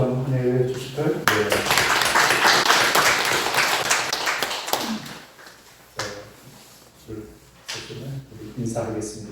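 At a Korean church's Easter Sunday service, the congregation claps to welcome singers for a special hymn. Loud, dense applause lasts several seconds, fades, and gives way to scattered thumps and talking.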